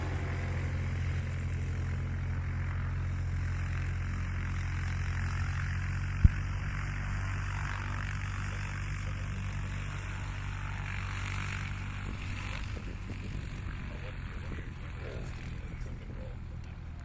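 A STOL light propeller aircraft on a low approach over a grass airfield, its engine droning steadily at a distance before the throttle is opened and the note rises and roughens, with faint background murmur.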